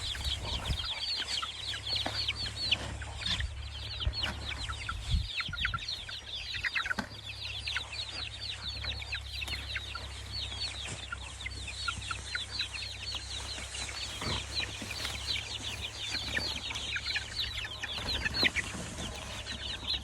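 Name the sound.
chicks being herded into a coop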